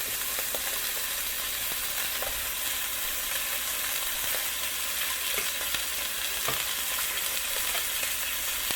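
Purple onion frying in a pan for birria tacos, a continuous dense sizzle throughout with scattered light stirring taps, close and even in loudness.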